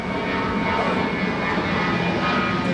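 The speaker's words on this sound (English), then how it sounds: "Okay, a few airplanes," Airplanes passing overhead on a night outdoors make a loud, steady jet-engine roar that fills the whole stretch with no pauses.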